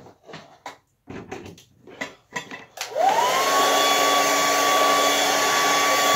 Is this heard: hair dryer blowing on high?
yes